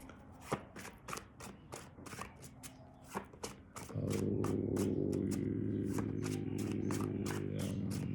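Tarot cards shuffled by hand up close, quiet rhythmic riffling taps, then a steady low hum takes over for the second half while the soft card flicks continue.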